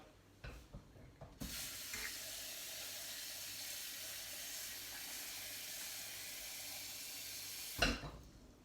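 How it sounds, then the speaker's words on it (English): A kitchen tap runs into a pan of salted potatoes, a steady close hiss of pouring water lasting several seconds before it is shut off with a brief clunk. "Top it up with water."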